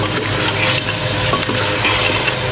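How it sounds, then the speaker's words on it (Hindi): Paste of six or seven tomatoes fries loudly in ghee with spices for beef karahi, a dense continuous sizzle with stirring scrapes close up and no talk. "अब इसको भून लेना है।"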